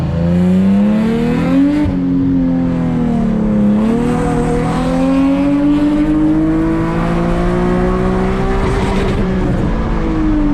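Tuned Infiniti G37 engine revving hard while driving, loud and close, pitch climbing steadily through a long gear, dipping briefly and then climbing again without an upshift.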